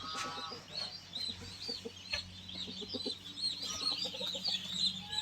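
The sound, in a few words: silkie chickens clucking in brooding area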